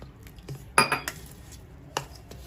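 A spoon clinks and scrapes in a bowl, mixing semolina batter with curd and water for coriander dhokla, with a couple of sharp clatters between quieter scraping, close up and with no talk.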